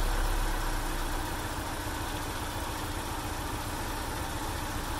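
A Mazda B2000 pickup engine idles during ignition timing adjustment, giving a steady, even mid-low rumble throughout, close and constant with no talking.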